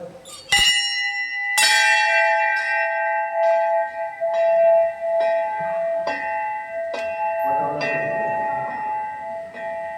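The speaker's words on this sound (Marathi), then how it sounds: "घंटा वाजू का" A metal temple bell at the stone-carved Vimaleshwar temple in Devgad is struck repeatedly, each loud, ringing clang layered over the last so the tone sustains and shimmers, with a hollow knock from the clapper near the end.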